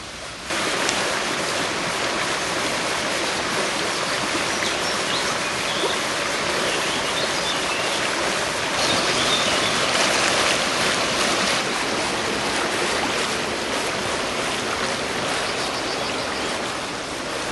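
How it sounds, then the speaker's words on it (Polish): A rushing stream roars continuously, a broad, steady wash of water that swells slightly midway, with no voices. "Potok"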